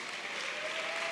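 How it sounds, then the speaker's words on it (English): Steady, dense applause from a crowd clapping hands, a continuous wash of claps without pauses. "the hand clap is in order"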